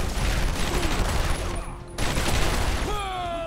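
Sustained enemy gunfire from Batman: Arkham Asylum, a dense loud barrage of rapid shots filling the whole stretch with a brief dip midway, with tonal game effects rising near the end.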